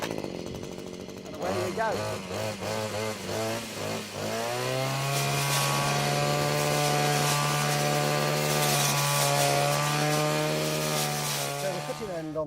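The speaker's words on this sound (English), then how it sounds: "End on the pruner is basically a small chainsaw" Small Cobra MT250C multi-tool chainsaw pruner with a 30 cm Cobra bar starting with a few pulls, then revving to a loud, steady, high two-stroke whine close by for most of the clip; a voice speaks briefly over the start.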